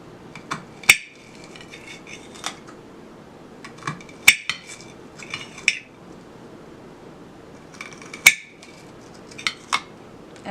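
Small peppers are sliced thin with a knife on a hard surface, giving sharp, isolated clicks and taps spaced a second or two apart, close up in an otherwise quiet kitchen.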